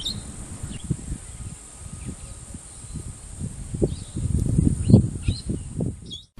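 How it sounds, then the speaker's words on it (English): Birds call and chirp around a campsite at Shingwedzi in Kruger Park, scattered high notes over a steady insect drone, with a soft low rustle in the foreground. "Lots of birds in the campsite, like most of the campsites in Kruger Park."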